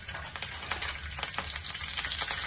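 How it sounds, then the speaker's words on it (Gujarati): Pav bread toasts in a little oil in a pan with green coriander, giving a steady close sizzle with repeated light stirring and scraping strokes. "આપણે પાવ શેકી લઈશું અને તેલ નાખ્યું છે થોડું"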